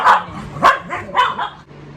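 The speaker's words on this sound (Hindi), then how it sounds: "after so much of interruption and everything from our dogs" Household dogs barking in a short excited burst of several sharp barks and yips, close by, with no talk over them.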